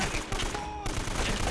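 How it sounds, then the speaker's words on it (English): Bursts of rapid gunfire in the video game Uncharted: Drake's Fortune, loud and close, with a short gap in the shooting. "Why am I just firing like I'm the daggone mafia and not aiming at all?"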